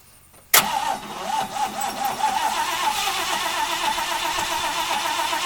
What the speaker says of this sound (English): So you should just be able to turn the key and it should go.